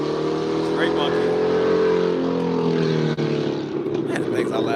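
Loud car engine revving close by on a city street, a sustained roaring drone with shifting pitch, while someone talks over it.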